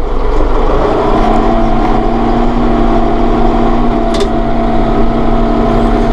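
Massey Ferguson 4610M utility tractor with power shuttle idling steadily nearby as it is shifted from neutral into forward gear, a constant droning engine hum with no clear clunk.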